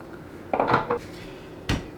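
Metal parts of a sausage stuffer being fitted together, a few close, sharp clanks and scrapes of metal on metal with a brief pause between them.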